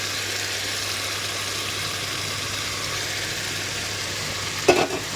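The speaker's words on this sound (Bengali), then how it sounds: "তাহলে এখন মাংসটা দিয়ে দিলাম।" Meat sizzles steadily in a pan as it begins to braise for a home-cooked curry, a constant close frying hiss ending with a short clatter of utensils.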